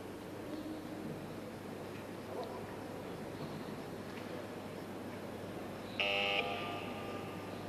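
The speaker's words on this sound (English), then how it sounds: "Buzzer for 30 seconds." A single short, loud electronic buzzer sounds near the end over the steady hum of a large hall at the 1993 World Weightlifting Championships in Melbourne.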